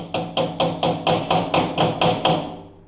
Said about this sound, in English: I'm going to put my wheel weight on, and I'm going to hammer it on.